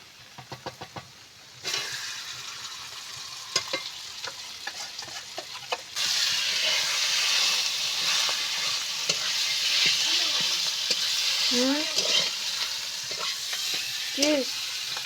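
Mashed taro leaf bharta goes into a pan of onions fried reddish brown; the frying sizzle swells louder as the mixture is stirred with scraping taps, and a faint voice appears near the end.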